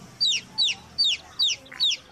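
Five evenly spaced, high, falling cheeps from colourful baby chicks, close and clear with no voices.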